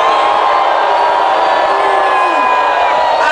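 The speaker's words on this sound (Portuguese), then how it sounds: "vamos a uma salva de vaias" A concert crowd at a show in Aracaju, Brazil, booing on cue, a loud, sustained roar of many voices with scattered whoops rising above the mass.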